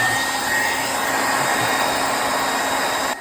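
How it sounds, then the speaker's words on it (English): A hair dryer runs on high heat while warming the spoiler on a 2009 Ford Mustang, a loud, steady whooshing whine that holds constant before cutting off at the end. "So what I'm doing is I'm putting a hairdryer to it"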